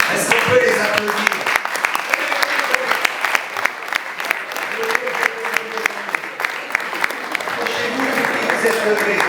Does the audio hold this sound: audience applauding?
yes